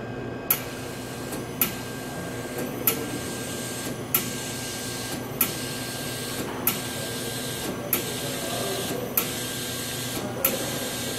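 An MBraun Labmaster 130 glove box antechamber refills with gas as a steady hiss, with sharp ticks or clicks at regular intervals of roughly one and a quarter seconds.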